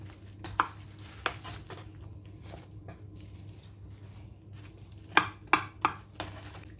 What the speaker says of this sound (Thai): หั่นผักขนาดก่อนเนาะจ้ะเขาใส่ผักขนาดกับ กวางตุ้งเนาะจ้ะ